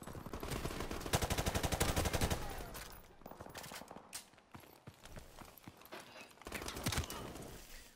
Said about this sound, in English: I just sprayed through the wall and got him